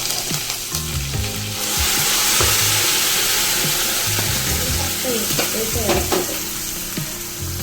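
Loud sizzling and crackling of crushed curry leaves and asafoetida dropped into hot oil, a sudden burst of spitting that settles into steady frying with occasional stirring clinks.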